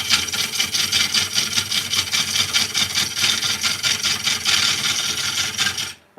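Lathe gouge cutting into a wooden bowl being turned, a loud, continuous, slightly pulsing shaving and scraping noise close by that stops abruptly at the end.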